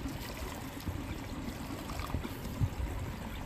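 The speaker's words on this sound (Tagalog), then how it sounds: "mag-refill ako ng tubig" Water runs steadily while a bottle is refilled on a trip to the Mt. Pinatubo crater lake, a soft continuous trickling and gurgling heard up close with no talk over it.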